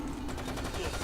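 Rapid, continuous gunfire in the video game Resident Evil: Operation Raccoon City, a steady stream of shots at a fairly low level with no voices over it.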